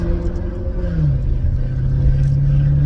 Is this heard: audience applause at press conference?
no